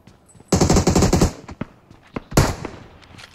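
Gunfire in the PUBG Mobile video game: a loud, rapid burst of automatic shots, then scattered single cracks and a second short burst, close and sharp.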